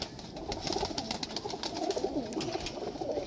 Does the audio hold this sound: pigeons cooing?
yes